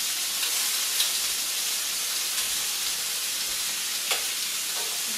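Chicken pieces frying in a pan, a dense continuous sizzle and hiss with a few brief crackles and pops, close and steady, no voices.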